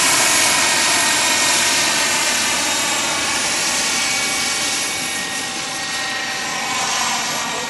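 A steady, high-pitched model jet turbine whine with a constant roar underneath, idling evenly at about 135,000 RPM throughout without rising or falling.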